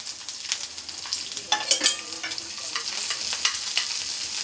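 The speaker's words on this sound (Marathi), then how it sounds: "तेलावर फक्त आपल्याला थोडंसं परतून घ्यायचं आहे" Onion and masala sauté briefly in oil for a mushroom masala, giving a soft crackling sizzle with intermittent spatula scrapes and stirring, close and fairly quiet, no voices.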